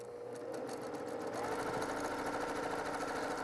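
Sewing machine stitching free motion quilting figure eights, a fast continuous mechanical whir and needle chatter that holds steady and grows slightly louder partway through.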